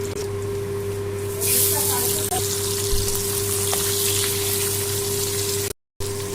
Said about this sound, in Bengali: এবার আমি বাদবাকি যে দুটো মাছ ছিল সেটা আমি ভালো করে ভেজে নেব